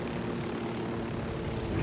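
A helicopter lands in the video game Ghost Recon, its rotor and engine producing a steady, loud droning whir that swells slightly at the end.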